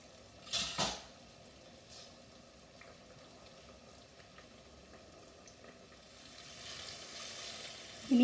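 Kerala-style ada frying in hot oil, a soft, steady sizzle close by. A couple of sharp kitchen clinks come early and a louder bubbling swell builds toward the end.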